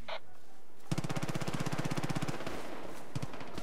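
Rapid automatic gunfire erupts in Far Cry 5 during a fight, a loud sustained burst of evenly spaced shots lasting about a second and a half, followed by a few scattered reports.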